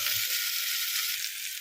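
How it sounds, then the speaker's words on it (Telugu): Onions, green chilies and curry leaves sizzle steadily in hot oil with browned garlic paste, a dense, even frying hiss with no voices. "ఇప్పుడు ఉల్లిపాయలు, పచ్చిమిర్చి, కరివేపాకు వేసి ఇవి కూడా కొద్దిగా వేగనిద్దాము"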